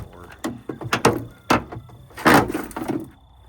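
A Jeep car door being shut, with a series of loud, close clunks, latch clicks and mechanical rattles spread unevenly across the moment.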